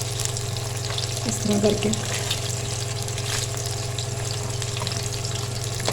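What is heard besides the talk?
egg frying in a pan for egg fried rice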